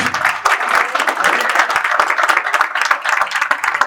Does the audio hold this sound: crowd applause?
yes